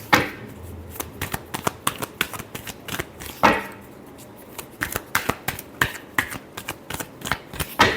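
Tarot cards are shuffled up close, giving quick papery flicks and riffles in uneven bursts with brief pauses between handfuls.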